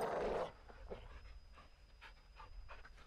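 A caged dog in the Modern Warfare 2 video game pants quietly and rhythmically after a brief louder burst at the start, with faint background game noise.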